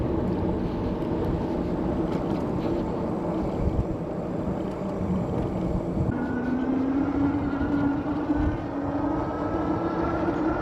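A motorcycle or e-bike fitted with an anti-vibration phone mount is ridden, giving a steady, loud rush of motor drone and wind noise throughout, with a tone that rises gently partway through.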